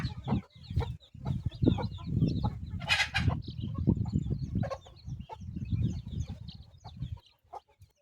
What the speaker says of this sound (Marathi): ही एक कोंबडी आपण बसवलेली आहे